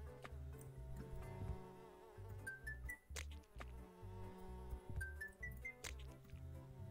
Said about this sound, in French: Casse-toi, la mouche.